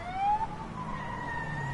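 A police siren wails in the video game A Way Out, a rising tone followed by a steady sustained wail over a low background rumble, fairly close and brief, with no talking.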